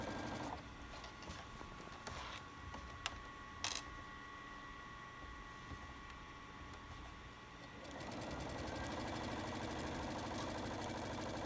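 A sewing machine stitches a quilt border with a soft, steady mechanical hum and faint clicks, quiet and close, picking up speed slightly toward the end.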